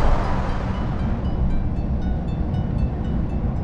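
A passenger train between Holland and Germany slowing toward a station, heard from inside as a steady low rumble with faint wheel noise, fairly loud and continuous.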